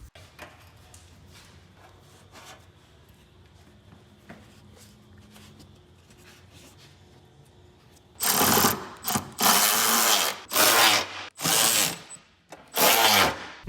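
An impact wrench drives trailing arm bolts on a Ford Bronco Sport, starting after a quiet stretch of faint shop clatter with four or five loud, close bursts of hammering rattle separated by brief pauses.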